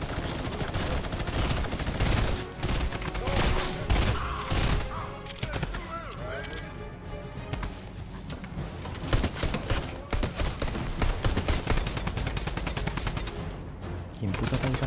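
Gunfire rattles through a Fortnite squad match in dense, rapid bursts and volleys that run nearly nonstop at close range, with players' voices mixed in among the shots.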